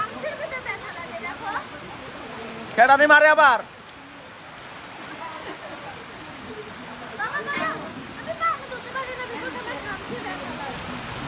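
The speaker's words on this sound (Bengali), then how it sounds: "প্রচুর বৃষ্টি পড়তেছে প্রচুর" Heavy rain pours in a constant hiss throughout while people talk over it, with one brief loud vocal outburst early on.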